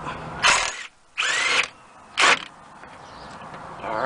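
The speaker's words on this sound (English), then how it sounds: "Put my impact there." An impact wrench removes a 21 mm bolt on a Cadillac CTS rear shock in three loud, close bursts of whirring hammering, separated by short pauses of quieter background.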